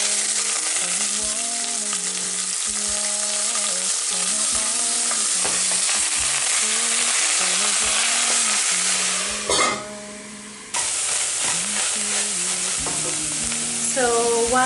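Beef for lasagne meat sauce frying in very hot oil, a loud continuous sizzle that keeps going throughout, with repeated stirring scrapes and clatters in the pan.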